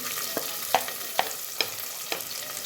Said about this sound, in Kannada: ಸ್ವಲ್ಪ ಹೊತ್ತು ಫ್ರೈ ಆಗ್ಬೇಕು ನೋಡ್ರಿ ಉಳ್ಳಾಗಡ್ಡಿ ಮೆಣಸಿನ್ಕಾಯಿ ರೀ